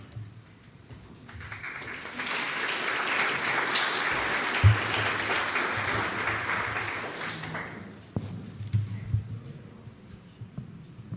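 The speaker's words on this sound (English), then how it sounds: "one more round of applause for Allison and the Historical Society" An audience at a historical society's centennial celebration event breaks into sustained applause, a dense wash of clapping that swells, holds steady for several seconds, then thins out, with a brief voice afterward.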